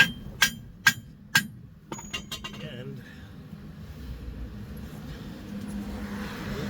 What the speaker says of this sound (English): It's still a little tight, so I'll take my hammer.